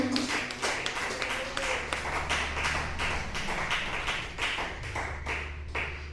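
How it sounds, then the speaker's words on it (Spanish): Church congregation clapping during a sermon, a sustained rhythmic patter of many hands with a loosely regular beat, fairly close and steady, with no talking over it. "Aplauda fuerte el nombre de Jesús"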